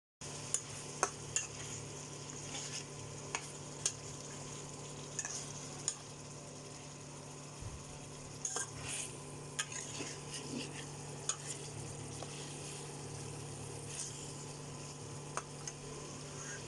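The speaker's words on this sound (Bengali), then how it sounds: "মশলাটা কষাই নেই" Spice paste of turmeric, chili, ginger and garlic paste, cumin powder and cardamom is sautéed with fried fish in a pan. A low sizzle runs underneath while a utensil stirs and scrapes with frequent small ticks and clinks.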